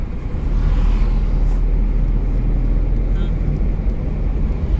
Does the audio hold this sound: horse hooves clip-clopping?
no